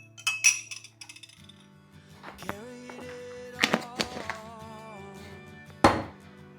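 Spoon clinking against a glass while mixing Nescafe, garlic and honey, a series of sharp ringing taps and scrapes, close and fairly faint, with a few louder strikes spaced irregularly.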